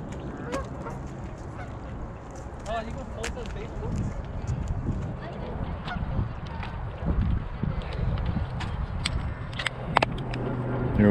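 A goose at Burnaby Lake honks repeatedly amid nearby voices and general outdoor bustle, with scattered sharp calls rising above a continuous murmur of people talking.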